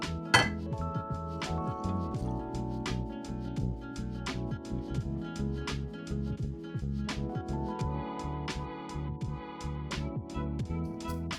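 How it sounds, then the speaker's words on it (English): A utensil clinks and scrapes against a bowl while liquids are stirred into glutinous rice flour, a quiet, steady run of small repeated taps with no talking. "we're going to gradually stir in our liquids."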